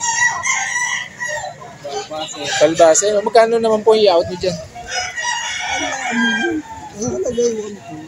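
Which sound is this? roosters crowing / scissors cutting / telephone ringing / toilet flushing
roosters crowing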